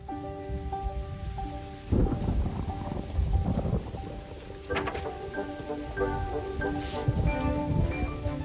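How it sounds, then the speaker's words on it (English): Steady rain patters throughout with a low rumble of thunder, while tonal musical notes play over it. "nice drop of rain"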